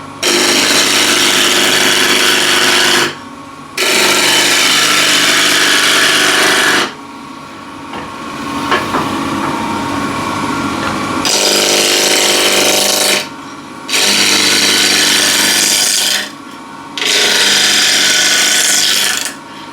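Wood lathe spinning at 1500 RPM while an asymmetric-grind ball gouge knocks the corners off a blank: loud, close scraping and chattering cuts in long bursts, separated by short pauses with only the lathe's hum.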